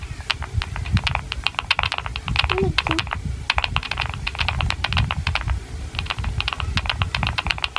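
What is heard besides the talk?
typing on a clicky computer keyboard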